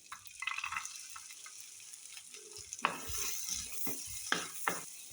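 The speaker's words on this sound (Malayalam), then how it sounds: "ബട്ടർ ഒന്ന് മെൽറ്റ് ആകുമ്പോഴേക്കും നമുക്ക് വെളുത്തുള്ളി ഇട്ട് കൊടുക്കാം." Garlic frying in melted butter in a pan for pasta: a soft continuous sizzle with intermittent stirring scrapes and clicks, close and fairly quiet, no voices.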